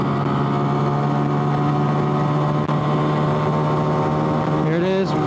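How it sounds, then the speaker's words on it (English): A 2019 Honda Monkey motorcycle fitted with a 14-tooth front sprocket runs steadily and loud, its engine note holding then rising sharply near the end as it accelerates through the gears. "Dropping the clutch in first gear."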